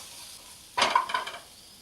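Ginger-garlic paste and coriander stems are stirred in a pan over a low gas flame: one short burst of scraping and sizzle breaks an otherwise quiet background.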